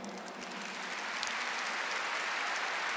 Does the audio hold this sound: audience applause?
yes